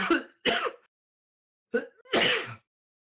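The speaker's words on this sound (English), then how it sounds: "It was like burps and then coughs." A few short, rough vocal bursts like burps followed by coughs, in two close pairs separated by a brief pause, loud and near with no talking.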